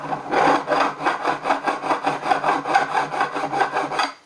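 Steady rhythmic rasping of a file on fretboard wood, about fifteen even strokes back and forth, close and fairly loud, with no voices.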